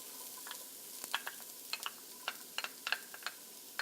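Two chopped garlic cloves and shallots crackling in hot oil in a pan, with faint steady hiss broken by scattered sharp pops and spits, fairly quiet and without talk.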